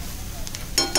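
Mutton sautés in masala in a pan for a Malvani mutton rassa, with a soft continuous sizzle and a couple of brief stirring scrapes near the end.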